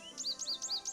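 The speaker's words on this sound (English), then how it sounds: "American goldfinch." American goldfinch calls played from a bird-call cassette in the Nancy Drew video game: a quick series of bright, rising-falling chirps repeating in a steady rhythm, clear and fairly close, with no talking.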